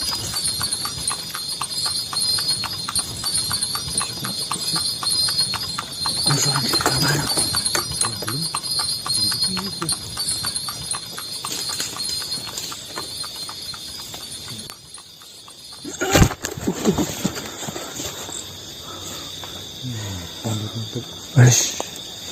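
Rhythmic hoof clip-clop of a horse-drawn carriage, with a bell-like ring and voices talking over it, fairly steady throughout.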